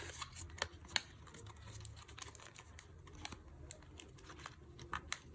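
Scissors cutting folded paper in half for a paper horse: a run of small crisp snips and rustles, close and quiet, with no talking.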